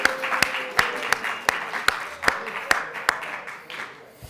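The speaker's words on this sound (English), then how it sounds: "Let's give our presenters a round of applause once more" An audience at the Beth El Latke-Hamentaschen Debate applauds the presenters. One close clapper beats a steady, even rhythm over a softer bed of crowd applause and murmuring voices, tapering off at the end.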